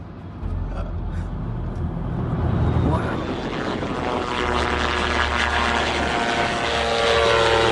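A propeller airplane drones overhead, its engine hum steady with a rising buzz as it passes, fairly loud and unbroken throughout.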